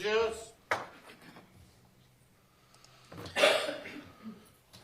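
A couple of sharp, short coughs in a courtroom during a murder trial, one near the start and a louder one later, with quiet background between.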